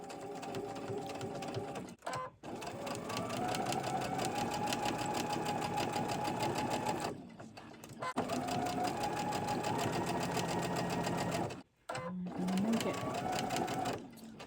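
A sewing machine stitches a strip of background fabric onto a quilt block, rapid steady mechanical chattering in long close bursts with short pauses between, while someone talks over it.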